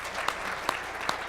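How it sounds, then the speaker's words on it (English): Dense audience applause at an artificial intelligence keynote, a continuous crackle of many hands with a few sharper claps standing out, steady and moderately loud. "So let's give everyone an applause for making this"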